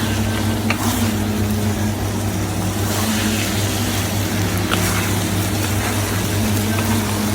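Steady sizzling and crackling of food frying in oil, with a low continuous hum underneath and no talking.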